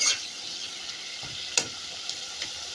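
Shrimp fry in a kadai over a low flame with a steady, close sizzle, broken by a few soft stirring clicks.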